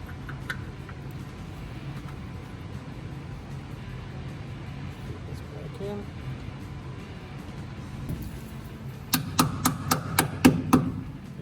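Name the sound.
hammer tapping brake pad tabs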